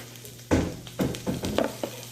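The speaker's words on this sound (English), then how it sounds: "You're just literally slicing up an onion." A knife slicing through an onion on a cutting board while a chicken chopped cheese sandwich is prepared, giving about five or six crisp, close cuts in an uneven rhythm, with no talking.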